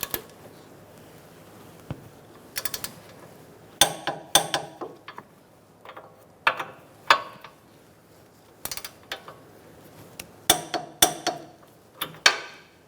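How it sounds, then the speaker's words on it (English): Sharp metallic clicks and clanks from tightening and torquing Fiat front brake caliper bolts, scattered single and grouped ticks close by, with quiet gaps between bursts. "I'm going to snug these up. And torque them to 77 foot-pounds."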